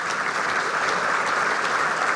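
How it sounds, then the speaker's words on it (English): Dense, steady applause from a luncheon audience at a charity celebration program, a continuous wash of many hands clapping at once, fairly loud and even throughout. "Let's give them a big round of applause."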